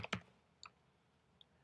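Brief clicks on a computer keyboard while typing an email address, a couple of sharp close keystrokes near the start, one more after a pause, then a faint last tap, over a quiet room.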